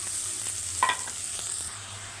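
Beans and carrot fry in a pan for a curry, a quiet sizzle with light stirring taps and one brief clatter in the middle.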